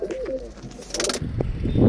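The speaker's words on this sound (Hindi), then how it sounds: "तो फाइनली गाइस मैं कबूतर खोल रहा हूँ," Pigeons give soft, low coos and rustling bird sounds close by for about two seconds, with some louder movement noise near the end and no talking.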